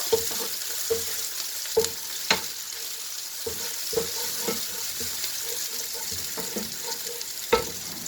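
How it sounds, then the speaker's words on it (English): Onions frying in a pan for lasagna give a soft continuous sizzle, broken by scattered clicks and scrapes of stirring. "So firstly, I will be adding my onions, then I stir."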